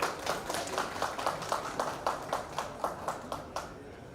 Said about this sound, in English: Let's have a great round of applause